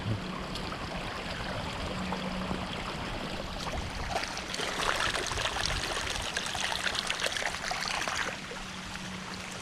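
Storm water runoff after heavy rain rushes through a cleared channel along a woodland horse-riding trail, a continuous close splashing and gurgling flow that swells a little in the middle.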